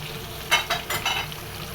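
Large giant freshwater prawns coated in spices frying in hot oil: a close, steady sizzle with a few sharper crackling bursts and stirring scrapes, no voices.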